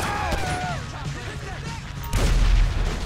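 An explosion in Grand Theft Auto V erupts as a sudden deep boom near the end, with low rumbling weight after a stretch of whistling, tonal game sounds and background noise.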